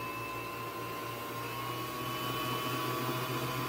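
A Singer Tradition sewing machine winds a bobbin with a continuous high-pitched motor whine, steady and close with no pauses or talking.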